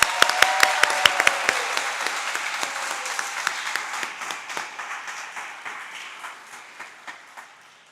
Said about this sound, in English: please join me in giving our families a round of applause.